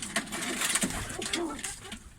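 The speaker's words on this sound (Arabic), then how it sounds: "هذا الحمام البلجيكي وهذا الثاني" Belgian pigeons at a Saudi bird market give soft, low cooing calls in short repeated phrases amid market background noise, with no clear talking.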